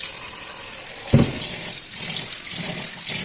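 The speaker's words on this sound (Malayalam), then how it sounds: "ഇത് തിളക്കുന്ന ടൈമിൽ നമുക്ക് അരി കഴുകിയെടുക്കാം" Running water splashes and trickles steadily, with a brief louder gush near the start, as rice is rinsed by hand in a pot.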